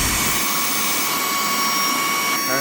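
Portronics car vacuum cleaner running in blowing mode, a loud, steady high-pitched whine and rushing airflow that holds throughout with a slight shift near the end.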